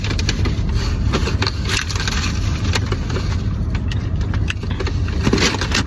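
A car on the road gives a steady, loud engine and road rumble from inside the cabin, with faint clicks and rustles over the continuous drone.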